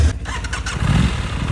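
An Aprilia 660RS and a Kawasaki Ninja 636 start up together, with a close, loud starter crank quickly catching into a throbbing idle burble.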